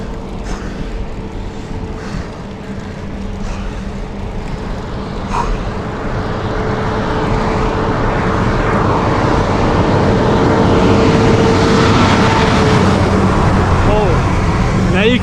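A lorry climbs a mountain road, its engine rumble swelling steadily from far to near and growing loud by the end, with continuous road noise throughout.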